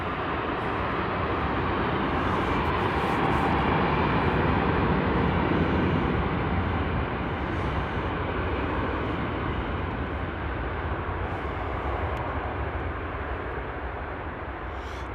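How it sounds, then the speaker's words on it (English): At Frankfurt Airport at night, a Lufthansa airliner, flight LH 510 to Buenos Aires, roars down the runway on its takeoff roll, a loud, steady, broadband engine rumble that slowly eases off. "LH 510, there we go. Rolling down the runway."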